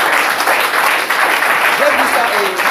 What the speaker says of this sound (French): Applaudissons pour le Seigneur.